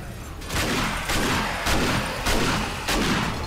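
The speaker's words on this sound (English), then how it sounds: "let's go amok with the shotgun here" In the zombie survival game 7 Days to Die, a shotgun blasts at a horde of zombies during a horde night, firing roughly twice a second. The shots are loud, booming and dense and run together into a continuous barrage.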